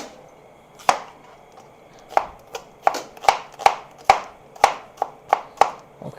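Garlic and onions being chopped with a knife on a cutting board for a curry duck dish: about a dozen sharp, close knocks that come irregularly at first and then settle into a steady rhythm, with a quiet background.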